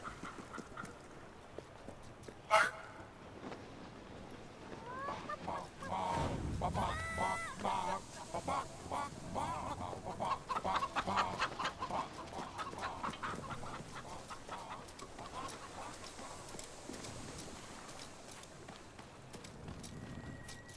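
Chickens in the video game Fable 3, clucking and squawking over a soft background with footsteps and a brief thump, moderately close.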